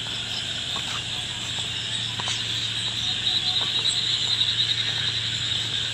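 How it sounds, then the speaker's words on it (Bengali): Crickets chirp steadily at night in a rural Bangladeshi village, a continuous high shrill trill with faint scattered clicks and a low steady hum beneath, moderately loud and unbroken throughout. "আপনারা ঝিঝি পোকার আওয়াজ শুনতে পাচ্ছেন।"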